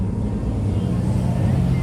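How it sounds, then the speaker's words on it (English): A car engine revs steadily before pulling away, a dense low rumble with constant loudness through the brief moment, close to the microphone with wind buffeting. "That's why I rev my engine before I dang take off."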